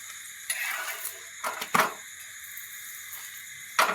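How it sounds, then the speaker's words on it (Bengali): Parathas fry in hot oil, with a soft continuous sizzle broken by a few sharp clatters of a pan or utensil at close range. "এরকম করে প্রত্যেকটা আমি ভেজে নেব"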